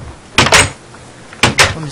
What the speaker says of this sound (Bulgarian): Това ми затвори вратата пред носа.